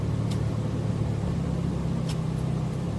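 Steady car interior noise while driving, a continuous low engine hum and road rumble holding at an even level throughout, with a couple of faint brief clicks and no talking.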